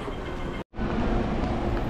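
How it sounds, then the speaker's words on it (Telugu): A metro train pulls into a crowded station with a continuous close rumble and hiss, broken once by a brief cut in the sound before the steady roar resumes. "మెట్రో వచ్చేసింది"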